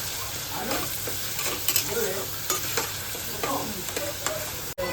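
Tomato masala puree frying in oil in a pan for butter egg masala, stirred with repeated close scraping strokes over a soft continuous sizzle.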